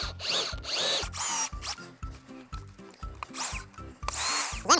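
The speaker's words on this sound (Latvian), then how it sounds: "Turpināsim urbt." Earth auger boring holes in dense, heavy clay soil, a loud continuous motor drone with rising and falling pitch and repeated bursts of grinding as the bit bites and strains, no voices.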